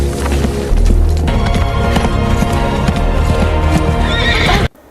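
A horse gallops with loud, rapid clip-clop hoofbeats and lets out a sharp neigh. The sound is close and dramatic, stays busy throughout, and cuts off abruptly at the end.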